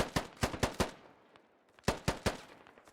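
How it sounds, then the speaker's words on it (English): Light machine gun fire in the video game Squad rattles out in two rapid bursts of sharp shots, separated by a short lull filled with fainter distant reports. "they're again under light machine gun fire constantly in this field"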